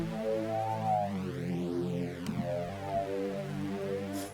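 A sustained synthesizer bass tone with rich harmonics and a slow filter sweep rising and falling, playing steadily with no talking.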